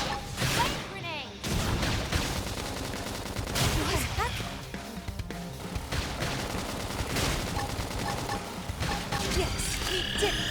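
Gunfire during a battle in Xenoblade Chronicles X: rapid volleys and single cracks mixed with impacts and mechanical clanks, running continuously and loud while game voices shout over the fighting.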